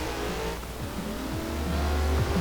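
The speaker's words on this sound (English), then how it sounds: "love the sound of this engine. Revs way higher than the Audi does" A V8 car engine in Forza Horizon 4 revs high and climbs in pitch, with gear shifts and tire squeal, loud and continuous like a racing game.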